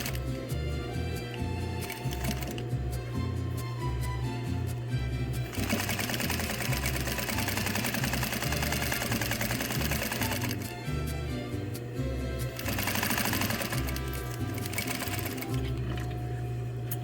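A domestic sewing machine stitches a garment sleeve in bursts of rapid mechanical whirring, with short pauses between runs, close and clear, with no talk over it.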